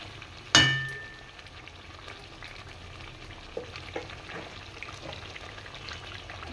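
Chicken frying in hot oil in a pan for lemon chicken, with one sharp spatter as it is stirred, then a steady low sizzle and faint scraping continuing alone.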